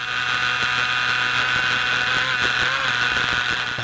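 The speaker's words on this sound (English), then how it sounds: "Just listen to the build rev so much quicker when they're heading downhill." A racing sidecar engine at the Isle of Man TT revs hard in a high, steady whine with slight pitch rises as it heads downhill, heard from onboard, loud and continuous with no talk.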